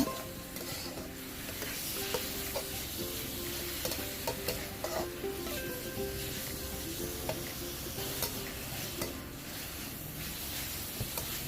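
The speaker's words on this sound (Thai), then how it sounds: "ใส่เนื้อลงไปเลยค่ะ วันนี้ได้เนื้อมาสดสด อร่อยอร่อยหวานหวานผัดแห้ง" Fresh beef stir-fried dry with basil, garlic and chili in a pan, sizzling steadily with scraping stirs and occasional utensil clinks, close and continuous with no talking.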